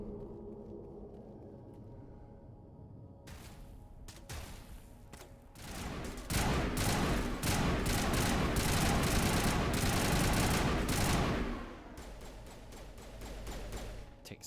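Heavy gunfire from a Mass Effect firefight, sustained rapid bursts that swell to a loud, dense barrage midway, then ease into scattered shots against a low rumble.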